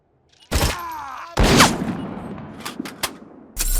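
Gunfire in RoboCop: Rogue City comes as loud, close bursts of shots separated by short gaps, with rattling echoes trailing after each volley.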